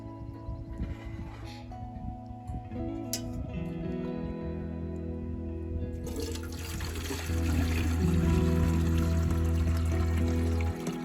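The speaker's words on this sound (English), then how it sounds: "And I'm going to pour this water in here." Water pours steadily into a gravity charcoal filter at close range, a soft trickle that swells into a louder, fuller rushing flow in the second half, with no talking.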